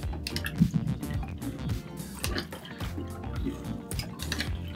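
LEGO hand pump moving water, with wet splashing, dripping and sloshing in irregular bursts alongside clicking plastic parts, close and moderately loud.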